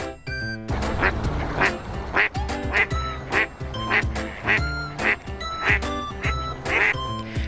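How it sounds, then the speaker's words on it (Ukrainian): A duck quacks over and over in a quick, regular rhythm, nasal calls repeating close by with music playing beneath them. "Качка крякає. Кря-кря."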